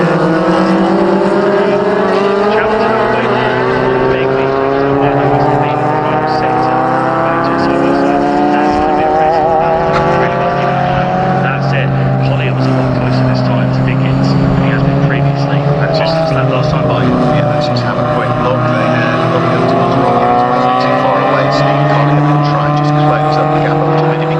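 CSP race cars at the Anglesey circuit, several engines droning loudly and continuously with rising and falling pitch, under steady commentary throughout.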